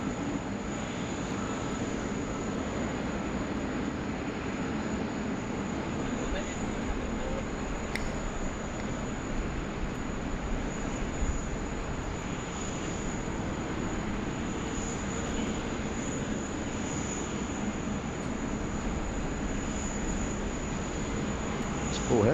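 A FedEx cargo aircraft arrives at Sydney Airport during a thunderstorm, its engines producing a loud, steady roar that holds without a break throughout, with faint talk mixed in.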